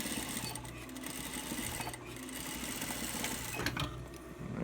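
A sewing machine stitches two layers of fabric in a steady, continuous whirring run with rapid mechanical chatter, close and fairly quiet, with no talking.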